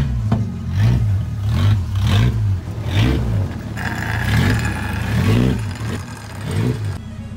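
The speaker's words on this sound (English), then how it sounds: "So I just finished cutting the exhaust and lowering the back. It's gonna rev, hold on." A Ford Ranger with a freshly cut exhaust and lowered rear revs hard in repeated bursts, its loud, raw engine note rising and falling in rhythmic pulses close by.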